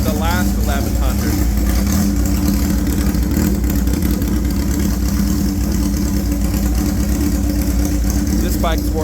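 A 1997 Suzuki GSX-R 1100 motorcycle engine runs warm at a steady, loud, close idle for the whole stretch, with a voice talking over it.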